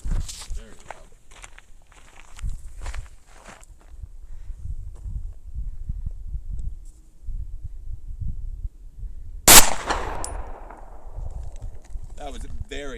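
A single loud gunshot fired outdoors in the Arizona desert during a UTV outing, a sharp crack followed by a decaying echo, preceded by footsteps and rustling with voices nearby.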